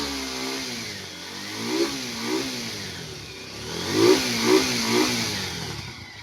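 A repaired Rusi R180 motorcycle with a holed exhaust pipe idles roughly and revs up in several short bursts, close by and fairly loud, with no voices.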